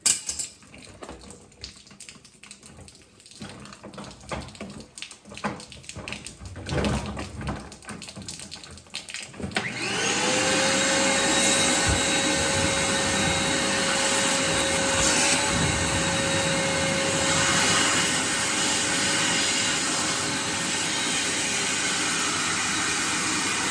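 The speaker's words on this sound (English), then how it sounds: "How'd the dang old shop vac blowing backwards?" A shop vac switches on partway through, running steady and loud with a constant whine after a stretch of messy splashing and clatter, used to extract Audi coolant but blowing air backwards.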